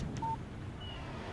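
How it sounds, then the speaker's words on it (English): A short electronic text-message alert chimes from a phone in the video game Alan Wake, a single brief clean tone followed by a faint higher beep over quiet room ambience. "Text message from Barry"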